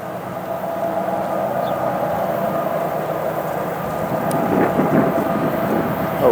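A CSX freight train passes as a steady, broad rumble and roar that builds slightly toward the end, with faint squeals and clanks, heard from some distance on a line near Hinsdale.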